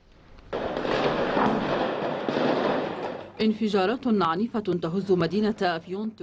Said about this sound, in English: Violent explosions are rocking the Turkish city of Afyon